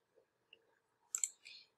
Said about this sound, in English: So I'm gonna type something in.